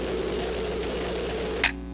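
A steady, dense wall of harsh static noise from a 1996 Japanese noise album plays loud and unbroken, then cuts off abruptly near the end.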